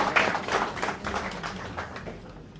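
Scattered audience clapping at a maritime university board conference, a fairly quiet patter of irregular hand claps from a modest crowd that gradually thins out.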